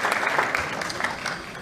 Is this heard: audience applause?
yes